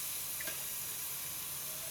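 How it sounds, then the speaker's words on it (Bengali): Chili water poured into a pan of frying cumin and ground spices gives a steady, close hiss and sizzle with a faint splashy trickle, no voices. "আর এ লঙ্কার জলটা একটু ধুয়ে দিয়ে দিলাম"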